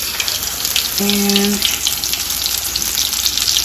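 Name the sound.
breaded pork tenderloin frying in a pan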